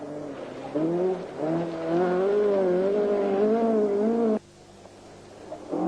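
A privately entered Ford Escort RS 1800 rally car, 1978, screams past with a rising, wavering engine note, loud and close for about four seconds before cutting off abruptly to a quieter background.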